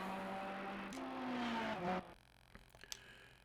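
A Lamborghini Huracan GT3 race car in Assetto Corsa Competizione holds a loud, steady engine drone that rises in pitch, then cuts off abruptly into quieter whirring and a few light clicks.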